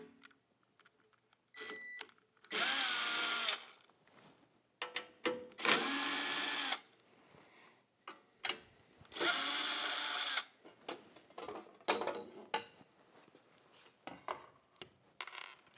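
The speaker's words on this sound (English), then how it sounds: "With the MAG-8100, we do need a 5/16 driver to take the front cover off," A power driver with a 5/16 bit spins out the front cover screws of a MAG-8100 lawn mower blade sharpener, making three loud whirring bursts of a few seconds each, separated by clicks and handling clatter.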